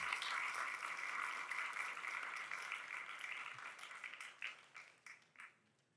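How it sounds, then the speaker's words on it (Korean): A church congregation gives welcoming applause during a youth worship service, steady dense clapping that thins out and fades toward the end. "환영의 박수 드리도록 하겠습니다."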